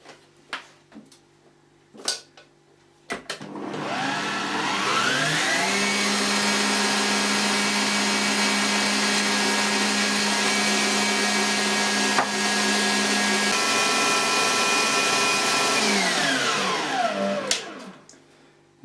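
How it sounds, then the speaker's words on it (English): Electric whisk whipping a meringue mixture for a cherry meringue, starting up after a few clicks, running loud and steady for about twelve seconds with a brief pitch change, then winding down and stopping. "Right then, the next job is to whisk that up."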